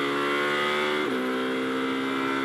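A GT race car on a circuit in Moscow pulls hard on an engine note that climbs steadily, drops sharply at an upshift into third gear, then rises again, loud and close, with no talk.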